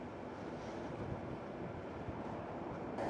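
Steady wind roars against the microphone while someone rides a Tonnerrey T8 Thunder electric bike uphill into a headwind, a constant low rumbling rush with no breaks and no talking.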